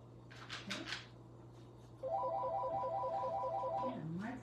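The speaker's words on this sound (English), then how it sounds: "My phone is ringing." A phone ringtone plays near and loud, a steady electronic melody repeating for about two seconds in a craft room where someone is working with chalk and ink, followed by a short rising tone.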